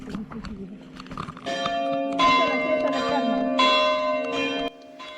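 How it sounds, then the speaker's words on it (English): Church bells in the square of the Sicilian town of Sutera ring out in celebration in a few loud, sustained clanging peals, with voices murmuring beneath them. "The bells ring in celebration."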